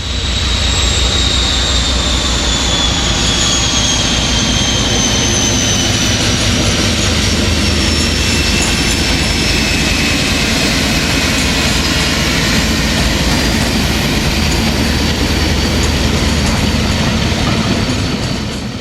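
A loud, heavy Class 56 diesel locomotive, 56095, drones and roars steadily up close while climbing the steep Camden Road Bank, with a faint high whine drifting downward, no voices.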